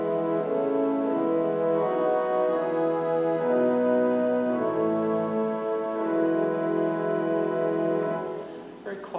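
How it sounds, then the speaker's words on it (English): Pipe organ string stops play a quiet, ethereal chord progression of sustained, reedy tones that move smoothly from chord to chord, alone and fairly close, before fading out near the end. "In this piece, we're going to use a family of stops called the string stops."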